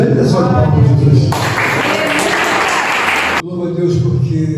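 A church congregation breaks into a burst of loud applause lasting about two seconds, framed by someone speaking before and after it.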